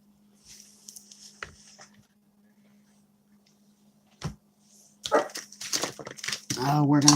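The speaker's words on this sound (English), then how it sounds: "Oh, we're going to start barking again." Small dog barking indoors in a home craft room, a few sharp yaps early and one loud bark midway, followed by someone talking close to the microphone.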